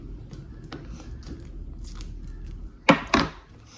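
Crisp tearing and crinkling of packaging while a new microphone is unboxed, two sharp close bursts near the end after quieter faint rustles.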